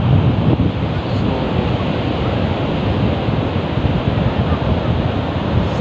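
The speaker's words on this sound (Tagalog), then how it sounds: "yung tunog ng alon talagang sarap sa tenga" Steady roar of ocean waves on a gray sand beach, with strong wind buffeting the microphone and a constant dense wash of surf close by.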